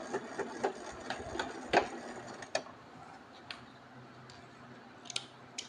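Scissors snip the thread beside an invisible zipper being sewn, giving a few sharp clicks and metallic snips near the start, then quieter faint handling with a couple of light taps.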